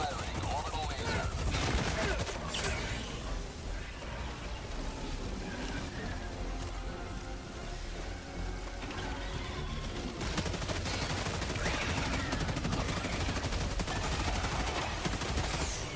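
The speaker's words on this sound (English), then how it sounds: "Firing orbital laser." A sustained roar of firing from an orbital laser strike in a video game fills the whole span. It is loud and dense, with crackling texture and a surge near the end, and speech is faintly mixed underneath.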